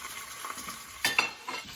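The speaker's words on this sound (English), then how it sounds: "So just a nice sizzle." Chicken schnitzel sizzling in a hot pan, a steady crackling hiss with a couple of sharper pops and clinks near the end.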